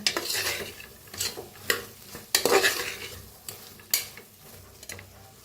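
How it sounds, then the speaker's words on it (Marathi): A spoon scrapes and stirs masala with green chillies roasting in a pressure cooker for soya pulao, in about eight sharp, irregular strokes against the metal over a soft background sizzle. "तर आता छान मिक्स करून घेऊया चांगलं भाजायचं बघा असं जरा मसाला"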